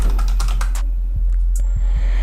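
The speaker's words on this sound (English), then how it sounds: "open a browser and type Google Play Store." A computer keyboard is typed on in a quick, close burst of clacking keystrokes, then a few isolated clicks follow over a steady low hum.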